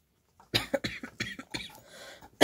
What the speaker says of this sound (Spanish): Todavía tengo tos